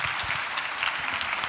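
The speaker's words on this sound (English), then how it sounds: "Can we please give a huge round of applause to Richard?" Short burst of audience applause after a festival talk on stage, dense even clapping from a crowd at moderate level throughout.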